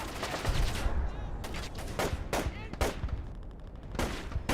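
Gunfire in the stealth game Splinter Cell: Chaos Theory: sharp, loud shots in irregular bursts, some rapid and clustered, others single, over a low background rumble.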